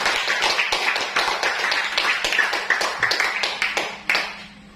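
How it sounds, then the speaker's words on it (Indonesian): Classroom of students clapping for the first group after its presentation, loud, close and fast, many hands in a dense ragged patter that swells and then tapers off. "Tepuk tangan untuk kelompok satu"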